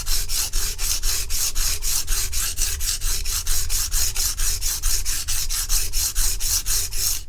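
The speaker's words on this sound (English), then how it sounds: "spend a few minutes just grinding down the sides" A Martha Stewart kitchen knife is ground on a 140 grit stone to reprofile its edge, producing steady, rhythmic rasping strokes about three per second, loud and close with no talk.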